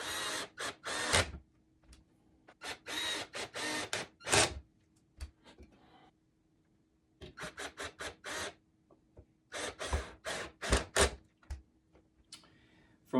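A screw is driven into a wooden board while an Adirondack chair is assembled, heard as repeated bursts of close, buzzing power-driver whirring separated by short pauses and a steady low hum.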